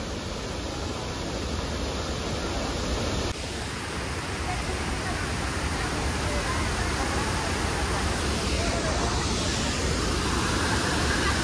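Water released from the Bhandardara dam plunges down the Umbrella Fall in a loud, continuous roar heard up close, a dense unbroken rush that holds steady throughout.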